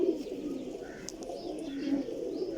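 A golden pigeon coos softly in a continuous low rumble, with faint flock murmurs and a brief sharp click partway through, no voices.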